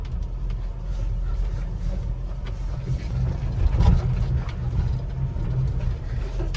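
A Honda Acty mini truck with an 8-speed transmission creeps along in crawling gear at very low throttle, its engine a steady, low rumble that stays close and even throughout, swelling slightly partway through, with no talk over it.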